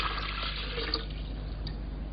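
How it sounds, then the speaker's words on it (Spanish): Water pours into a glass bottle as a continuous liquid splash and gurgle, steady and fairly loud, with no voice over it. "Cogió una botella de cristal y la llenó de agua."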